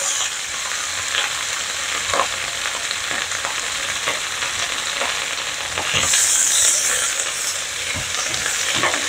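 Vegetables fry in hot oil with a steady close sizzle, broken by scraping stirs that grow busier near the end.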